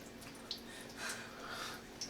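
Water drips and trickles faintly inside a Waterdrop King Tank gravity-fed water filter as it fills, with soft intermittent drops over a steady low background hiss.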